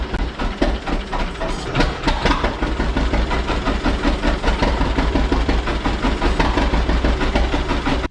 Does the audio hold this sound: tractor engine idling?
yes